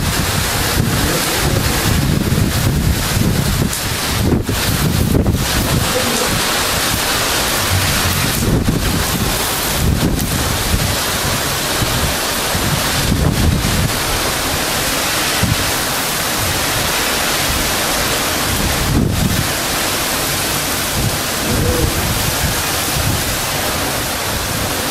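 Storm wind roars into the microphone over crashing ocean surf on the coast of Cayo Coco, Cuba, a loud, continuous wash with periodic heavier gusts and wave surges.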